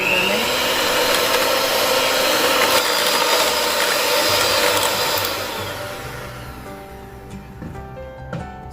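An electric mixer whirs steadily through jalapeno cheese cornbread muffin batter, a loud continuous buzzing drone that eases and fades toward the end.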